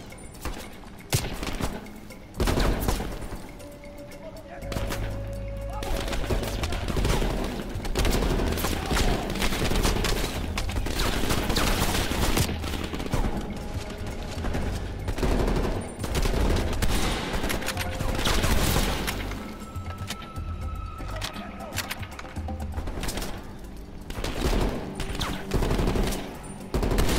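Gunfire in the video game Call of Duty Black Ops, with dense bursts of rapid shots and heavy booms going on almost continuously and loud throughout, with a few brief gaps.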